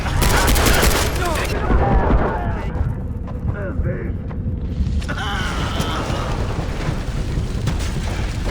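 Gunfire in the video game Far Cry 3: a dense opening volley of rapid shots, then scattered bangs and mechanical clanks, with a voice talking over much of it.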